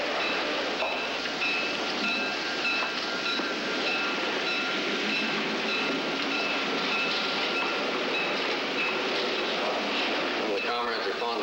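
A train runs on steadily with a continuous loud rumbling roar and a faint rhythmic clatter near the end, the interior of a moving railway car with voices murmuring beneath the noise.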